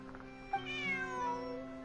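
A cat meows in the video game Genshin Impact, a single drawn-out, clear call rising and falling over steady background game music.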